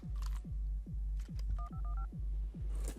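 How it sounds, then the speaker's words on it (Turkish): Telephone dialing in the video game Buckshot Roulette: a short run of bright keypad tones over a loud, pulsing low throb that repeats steadily, with faint clicks scattered around. "Telefon görüşmesi yapıyor lavuk."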